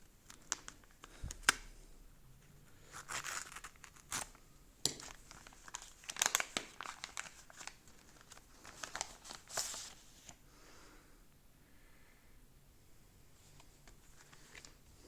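A package holding two euro coins is unboxed, with plastic and paper wrapping crinkling and tearing in scattered close bursts and brief quiet pauses between them, and no voices.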